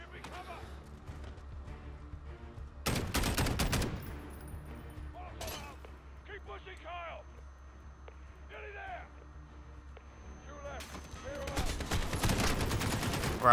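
Bursts of loud gunfire in the video game Modern Warfare, a long close volley early on and another near the end, with someone talking between the bursts.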